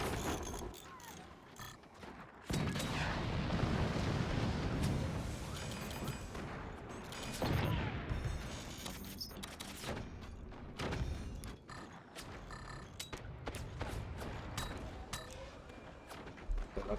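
Cannons fire in the physics strategy game Forts during a 2v2 tournament match, a string of heavy booming shots and impacts with clanking mechanical creaks between blasts, loud and layered across the whole stretch.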